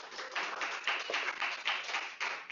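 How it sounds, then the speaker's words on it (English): Applause from a sales-meeting audience, a dense patter of hand claps at steady volume for a couple of seconds, fairly close and not very loud. "round of applause"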